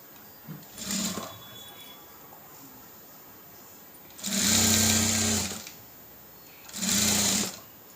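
A sewing machine stitches a blouse lining in bursts: a brief hum, then two longer steady runs of motor whir and needle chatter separated by quiet pauses, close and clear with no talking.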